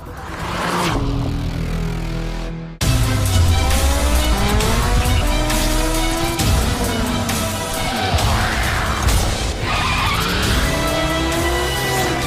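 A sports car styled like a Porsche 911, capable of 0 to 100 km/h in 4.6 seconds and 307 km/h, revs hard with rising and falling engine pitch and loud tyre squeal, close and continuous, with no talking.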